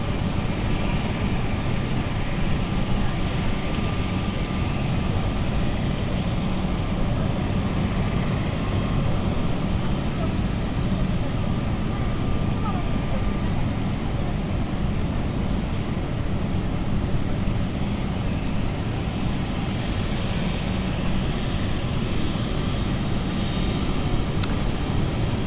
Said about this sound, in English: So our dash 8 is starting up.